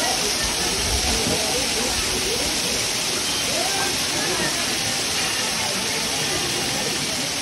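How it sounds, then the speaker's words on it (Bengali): Water pours steadily at a bathing spot by a temple in Lower Mustang, Nepal, a dense continuous rush that holds the same level throughout with no break. "এটা সবসময় জল পড়ছে"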